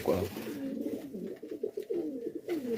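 Pigeons coo close by in soft, throaty, rolling calls that run almost continuously with no other sound.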